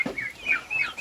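Young turkey poults calling in a pen, a quick run of high, thin peeping chirps, close and fairly faint.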